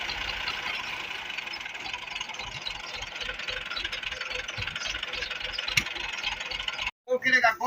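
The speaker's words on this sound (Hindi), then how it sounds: "अब मोटरसाइकिल वाला भी वेल्ड करवाने आ चुके हैं।" A motorcycle engine idles steadily at a village welding shop, a continuous mid-pitched rumble with light rattle running for about seven seconds before cutting off abruptly, followed by a brief burst of voices.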